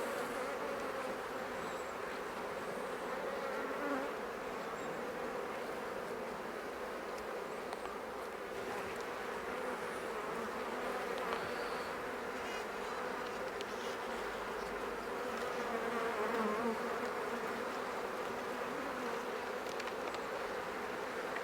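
Honeybees hum around an open nuc hive, a dense, even buzzing swarm close by that holds steady throughout without talk.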